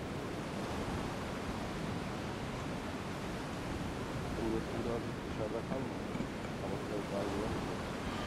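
Steady roaring wind rushes past during a parachute drop from a plane in a video game, a loud, even broadband whoosh filling the whole stretch.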